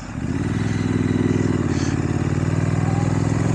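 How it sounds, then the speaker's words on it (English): A Triumph motorcycle engine burbles steadily at close range, a low rhythmic exhaust pulse holding an even, moderately loud note throughout. "The exhaust note's a nice burble without being obtrusive."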